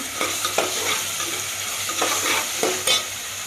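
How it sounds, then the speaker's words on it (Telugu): Ginger garlic paste frying for chicken curry sizzles loudly up close, punctuated by several quick spatula scrapes and stirs against the pan, all without speech. "అల్ల వెల్లుల్లి పేస్ట్ బాగా ఎగాలండి"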